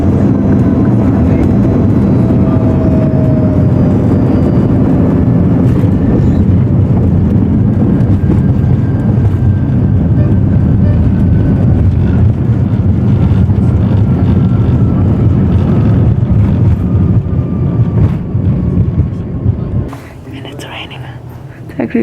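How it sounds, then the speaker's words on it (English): A loud, steady engine drone from a small American Eagle propeller passenger airplane close by, continuing without a break before dropping off sharply near the end. "Our plane just arrived."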